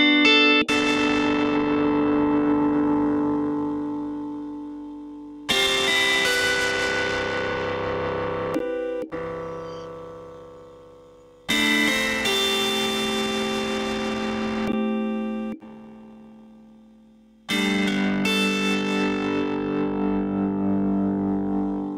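A distorted electric guitar riff runs through an IK Multimedia Tape Machine effect in FL Studio, with several big sustained chords ringing out and decaying before each new strike, loud with reverb and echo and no talk.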